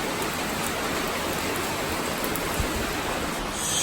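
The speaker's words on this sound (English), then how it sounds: "see if the rain slows down" Heavy rain pours down as a dense, unbroken hiss at constant loudness, with occasional heavier drops, close by and with no voices.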